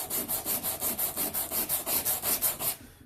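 Sandpaper rubbed back and forth over an aluminum part during wet sanding, about fourteen steady, even strokes close up, stopping just before the end.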